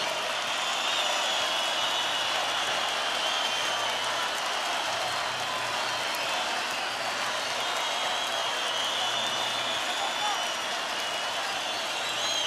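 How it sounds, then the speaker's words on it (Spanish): A large festival concert audience applauds in a broad, steady roar of clapping and crowd noise that holds evenly for the whole stretch, heard at a distance. "Agradecemos su presencia y le brindamos el último aplauso."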